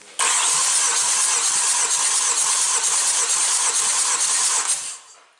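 A 2-litre Renault M9R diesel engine in a 2008 Renault Laguna III cranking during a compression test: a loud, continuous whirring, buzzing starter drone with a steady rapid pulse, close up, starting abruptly and cutting off near the end.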